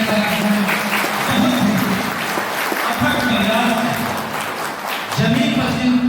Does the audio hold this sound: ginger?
no